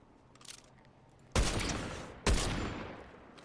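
Two sharp, loud sniper rifle cracks about a second apart in a Fortnite Battle Royale match, each leaving a long rumbling echo that tails off, with no talk over them.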